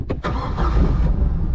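A 2004 Sea Ray 180 BR boat engine cranks with a couple of quick starter bursts, then fires and settles into a loud, steady idle close by.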